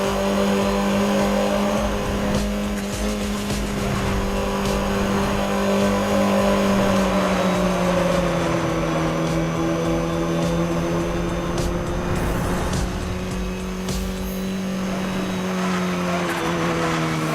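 A car engine in the Need for Speed Most Wanted racing game drones steadily at high revs while driving through a tunnel, its echoing, sustained roar continuous and loud throughout with slight pitch shifts and no talk.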